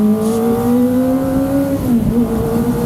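A 2023 Kawasaki Ninja ZX-25R 250cc inline-four motorcycle engine pulls smoothly with rising high-revving whine, briefly dipping around a gear change before climbing again, loud and close.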